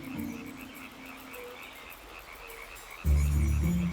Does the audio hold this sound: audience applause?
no